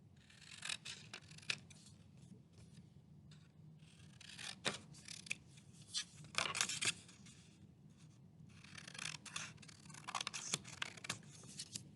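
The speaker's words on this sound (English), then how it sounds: "Let's take our scissors and cut along the lines, just the outer rectangle." Scissors snipping and slicing through paper along printed lines for a craft puppet, in short bursts, crisp and close, with brief pauses between cuts.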